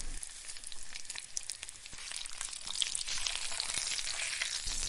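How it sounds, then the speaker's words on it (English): Salmon searing in olive oil in a heavy skillet gives off a fairly quiet, dense, steady crackling sizzle with tiny pops, holding even throughout with no voices. "Lay the salmon in and let it sear 3 to 4 minutes per side, depending on thickness"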